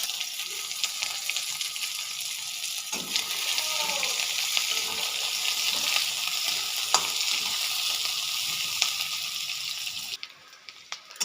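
Chopped onions fry in oil spiced with garam masala, a steady close sizzle punctuated by spoon scrapes and stirring clinks, easing off near the end.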